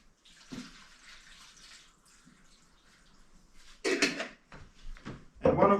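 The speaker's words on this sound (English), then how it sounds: "And then obviously we put some little bit of filtered water." Filtered water pours into a dish with a soft, faint trickle, followed by louder splashing bursts near the end.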